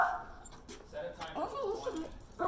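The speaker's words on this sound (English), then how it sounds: "My dog is up." Pet dog whimpering and whining in high, wavering cries indoors, close by, with a person talking over it.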